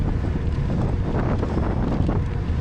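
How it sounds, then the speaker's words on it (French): Strong wind roars steadily across the microphone during a cross duathlon bike ride, a loud, continuous buffeting rumble with no voices. "Et il y a vraiment du vent, quoi."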